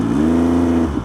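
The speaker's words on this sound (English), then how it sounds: "it does make this awesome sound from this SC Project exhaust" A 2020 MV Agusta F3 800 RC three-cylinder motorcycle with an SC Project exhaust revs in a short, loud, throaty burst, holding a steady pitch for about a second before dropping off.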